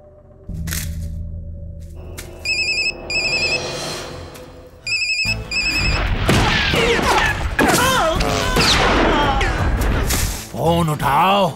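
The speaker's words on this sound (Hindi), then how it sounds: "भाई रिंग बज रही, वो उठा नहीं रहा है।" A mobile phone rings repeatedly with an electronic ringtone, left unanswered, in a tense scene; the ringing comes in bursts over thumps, crashing noises and agitated voices talking.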